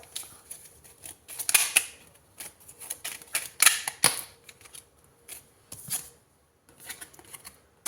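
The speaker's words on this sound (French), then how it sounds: "Alors, on prend une troisième et dernière carte." A tarot card is drawn from a deck, giving a series of crisp card snaps, slides and rustles in uneven bursts close by, with short quiet gaps and no voice.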